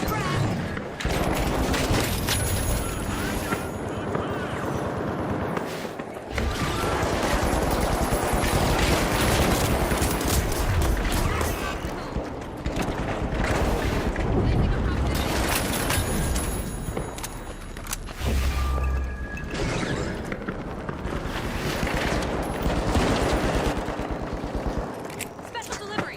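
Video game gunfire with rapid automatic bursts and a frag grenade blast, loud and dense throughout, with short lulls between volleys and a voice talking over the action.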